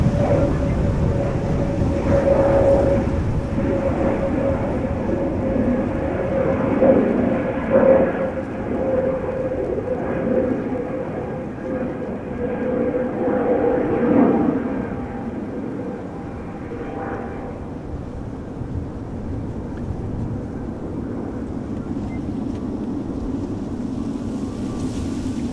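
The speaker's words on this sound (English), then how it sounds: "Departure from center just now. A321 Air Astana to Attirau." An Air Astana Airbus A321 departs Amsterdam Schiphol, bound for Atyrau, its jet roar steady and broad through the first fifteen seconds before easing into a softer, distant rumble.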